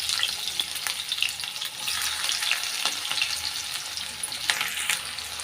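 Two large chopped onions sizzle and crackle in hot oil in a kadai, a steady frying hiss with scattered pops and occasional stirring, close and continuous, with no talking.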